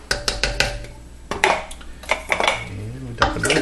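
Close metallic clanks and scrapes from a large pressure cooker pot being handled while chili cooks, several sharp knocks in a row, with a voice speaking briefly between them.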